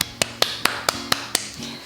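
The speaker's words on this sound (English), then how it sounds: "And I also clap." Hands clapping to call dogs, seven sharp, evenly spaced claps up close in a quiet room, then a final softer one.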